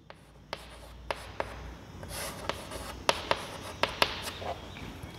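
A pen writes the sender's address on paper, heard up close as soft, quiet scratching broken by several small taps as strokes begin and end, with no voices.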